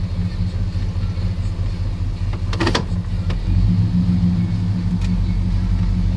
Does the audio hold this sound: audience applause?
no